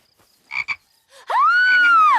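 A cartoon frog gives a couple of short clicks, then a loud, long, drawn-out croak that rises and falls, heard alone with no talk.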